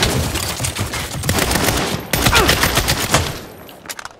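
Sustained gunfire from the Saints Row video game, a dense burst of overlapping shots with a brief break near the middle, loud and close throughout.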